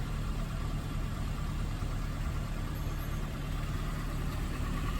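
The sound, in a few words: 2010 Ford Ranger truck engine while driving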